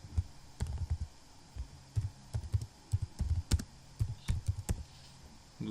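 Computer keyboard typing, a faint, irregular run of soft key clicks in short bursts with quiet gaps, heard alone without talk.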